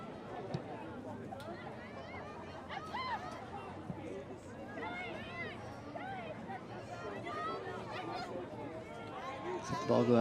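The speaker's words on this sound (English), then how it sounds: "Looks like the crowd's having a blast down there" Spectators at a girls' high school soccer match, Lady Wolves against the Rogers Rams, keep up a steady murmur of chatter with scattered shouts and cheers. Voices rise toward the end, and faint talk runs through it.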